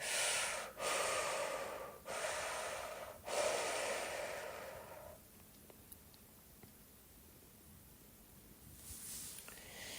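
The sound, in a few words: strong breathing during shamanic ritual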